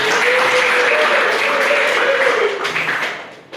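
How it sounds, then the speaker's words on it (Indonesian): A university research methodology lecture class breaks into applause, dense and steady from many hands at once, then thinning out and fading toward the end. "aplaus buat Faisa"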